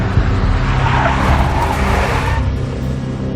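A big black Mercedes skids in the Max Payne 1 video game, a loud tire squeal and screech lasting a few seconds before cutting off abruptly, with a low engine rumble underneath.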